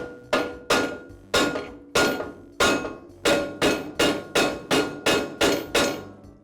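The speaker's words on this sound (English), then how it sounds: "I'll use my rubber mallet to tap the arbor into that second bearing." Rubber mallet tapping the arbor shaft of an MK Diamond tile saw into its bearing: about fifteen sharp, close knocks, spaced at first, then quickening into a steady run.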